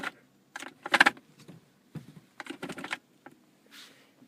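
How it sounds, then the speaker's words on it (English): A Ford Focus or Fiesta Powershift brake shift interlock solenoid clicks with the brake pedal held, making sharp, close, irregular clicks in small clusters with brief gaps between them. "the actual brake interlock solenoid here just keep clicking as long as your foot was in the brake"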